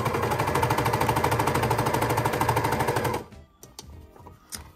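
An overlocker stitches a sweatshirt neckband in a steady, rapid mechanical whir lasting about three seconds, then stops, leaving a few small clicks and handling noises.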